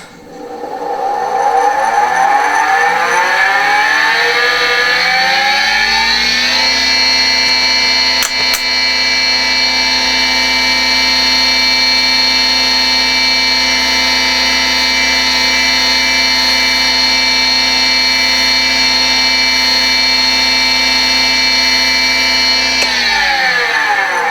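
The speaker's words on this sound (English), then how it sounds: "I'm going to turn as fast as this lathe goes." A lathe spins up to its top speed of about 3,700, its whine climbing in pitch over the first several seconds. It then holds a loud, steady hum for a long stretch before winding down near the end.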